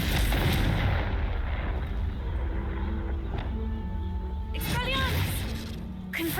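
A Confringo blasting spell going off in Hogwarts Legacy, a heavy booming burst that rolls into a sustained rumble, with a voice speaking and game sound effects chiming near the end.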